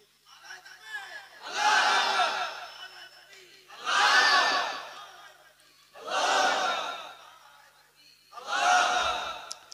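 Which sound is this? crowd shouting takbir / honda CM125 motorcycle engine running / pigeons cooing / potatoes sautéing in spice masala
crowd shouting takbir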